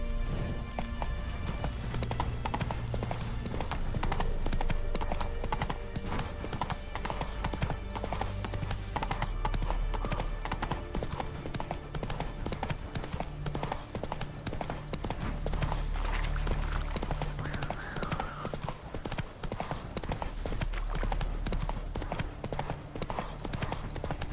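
Hooves clip-clop in a steady, driving rhythm as a horse gallops through The Witcher 3 video game, loud and continuous for the whole stretch with soft game ambience underneath.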